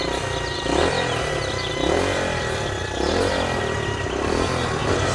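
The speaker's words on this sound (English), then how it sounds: "Small vehicle engines" A small vehicle engine runs close by, droning and rising and falling in repeated surges of revving with some rattling clatter.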